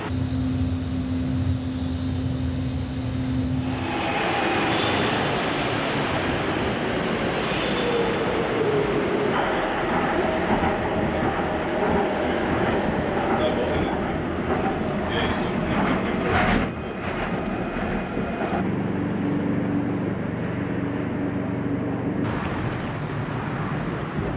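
Docklands Light Railway train riding through London, a loud continuous rumble with shifting hum and rattling from inside the carriage, steady throughout with a brief change partway.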